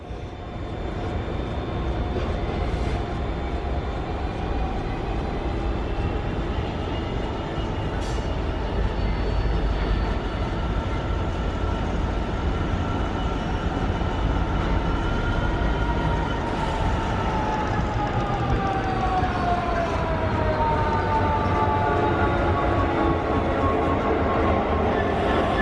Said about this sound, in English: The car train, I do believe.